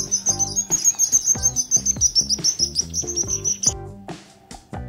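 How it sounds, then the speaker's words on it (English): A sparrow chirps in quick, bright, repeated tweets over a bouncy musical backing, then the chirping stops and the music carries on briefly. "Sparrow."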